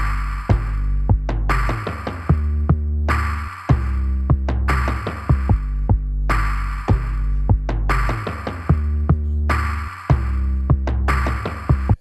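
Hip-hop beat made of a booming 808, punchy kick, distorted hi-hat and toms, repeating in a steady looped pattern with short gaps between bars, loud and with no talking.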